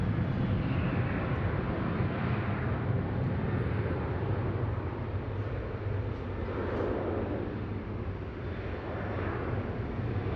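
A Virgin Boeing 737 lines up for takeoff from Sydney Airport for Melbourne. Its engines make a steady, broad jet roar that holds loud and even throughout, heard from a distance with no talking.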